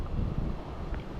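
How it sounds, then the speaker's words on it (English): Strong westerly wind buffeting a microphone outdoors on open water near an island, a loud continuous low rumble with gusty swells and no speech. "incredibly windy"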